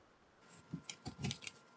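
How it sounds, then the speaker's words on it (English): A tarot card deck is shuffled by hand, giving a short run of quiet, crisp riffling clicks and flutters in a quiet room. "I wanted to give this one a good shuffle just to make sure before I put it aside"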